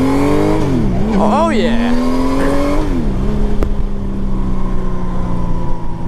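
A 1998 Honda Valkyrie motorcycle on stock pipes revs loud and close, its engine pitch climbing and dropping in quick sweeps before settling to a steady idle, with a brief excited shout from a rider.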